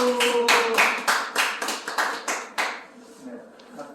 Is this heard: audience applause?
yes